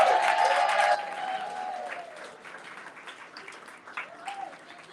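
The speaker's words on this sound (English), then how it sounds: "Big round of applause for Joelle and this delicious food." Audience at a holiday party and business awards gathering applauding, loud clapping for about a second, then fading into lighter scattered claps and crowd murmur.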